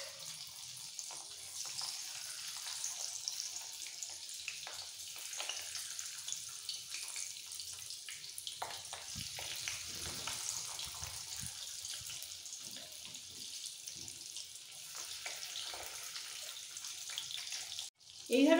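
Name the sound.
morola fish pakora in egg batter frying in oil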